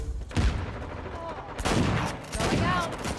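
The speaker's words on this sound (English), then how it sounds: "I'm shooting the wall." Gunfire in Uncharted 4: A Thief's End, a shotgun firing 12 gauge slugs, comes as several loud, close blasts with reverberant tails, spaced across a few seconds.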